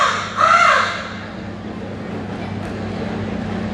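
A man imitates a male crow's caw on stage at a charitable trust award ceremony in Surat, one loud harsh call that fades into steady hall hum.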